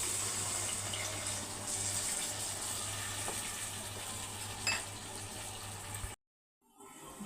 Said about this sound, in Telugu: కొంచెం వాటర్ వేసుకుంటాం